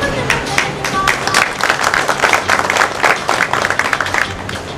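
An audience at a public event applauds an announced panel member with steady, dense clapping that stays loud and even throughout.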